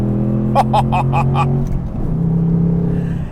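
A 2024 Ford Mustang GT's Coyote V8 hums steadily, then revs in a quick series of bursts on a downshift to third before settling into a deep, droning rumble as the car accelerates.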